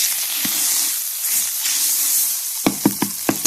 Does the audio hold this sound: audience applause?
no